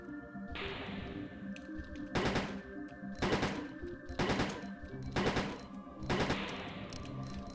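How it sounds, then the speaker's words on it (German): Gunfire at a zombie in the video game Resident Evil 1.5: five loud, evenly spaced gunshots about a second apart, each with a short ringing tail, over a steady in-game background drone. "Ich hab dir gerade 15 Schuss reingepfeffert"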